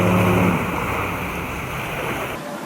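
Waves on Pattaya Beach in Thailand wash in as a steady broadband rush, with some wind buffeting the microphone; the surf noise fades slightly and cuts off near the end.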